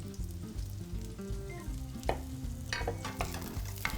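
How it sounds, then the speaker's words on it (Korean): Chopped green onion stir-fries in hot cooking oil, a continuous crackling sizzle with bursts of spatula scraping, set against a loud sustained musical hum. "대파가 타지 않도록 골고루 볶아 준비해 주시고요"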